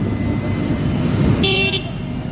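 Car horns sound in busy Lucknow street traffic, heard from an electric rickshaw near Indira Nagar metro station: a steady rumble of engines and road noise, with one short, bright horn toot standing out near the end.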